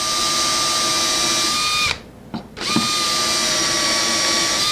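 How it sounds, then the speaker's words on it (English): Power drill boring screw holes into the side of a small CNC machine build in a workshop, a loud steady whine that stops briefly, then restarts and runs continuously, close up. "just get a couple of holes, a couple of screws in here"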